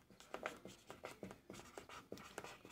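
Chalk or marker strokes on a classroom board, a series of short scratchy bursts in an irregular rhythm, fairly close and moderately loud, with no talking over them.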